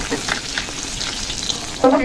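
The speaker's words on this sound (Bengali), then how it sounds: "তেলটা গরম হয়ে গেছে এখন মাছগুলো ভেজে নেবো" Fish, likely hilsa, fries in hot oil with a loud close sizzle that holds steady, then a brief clank from a utensil at the end.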